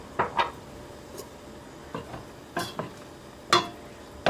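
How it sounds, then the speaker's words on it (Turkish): Soup with egg-lemon sauce and chickpeas is stirred in a pot, producing a few sharp spoon clinks and scrapes against the metal at irregular intervals over a quiet background. "terbiyeyi yavaş yavaş tencereye ekleyerek karıştırıyorum"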